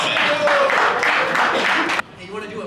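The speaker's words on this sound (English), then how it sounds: "I want you guys to start clapping your hands right now. Bring the thunder for our good friend Frank Castillo" A live show audience claps and cheers for guest Frank Castillo, a loud, dense wash of applause that cuts off abruptly, followed by quieter room noise.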